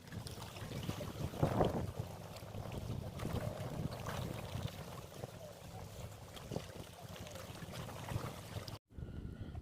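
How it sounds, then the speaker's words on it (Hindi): Outdoor water noise in France, a continuous washing rush with wind buffeting the microphone and faint boat-like rumble, steady and moderately close, briefly cutting out near the end. "आप अभी सिर्फ पानी का आवाज़ सुनिए"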